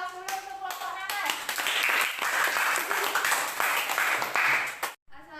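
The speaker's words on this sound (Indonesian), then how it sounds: "Kita aplaus dulu untuk kelompok nanas." A classroom of students gives a student group steady, lively applause before its presentation, with many hands clapping close by and voices mixed in, ending in a sharp cut to silence.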